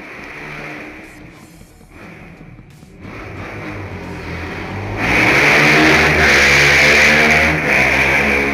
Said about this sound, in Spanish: Ha pasado una moto